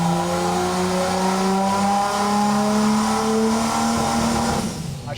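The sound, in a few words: boosted 292 Chevy straight-six engine revving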